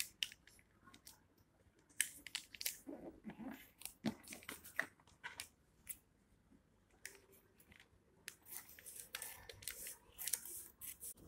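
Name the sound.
cutting a leaf with scissors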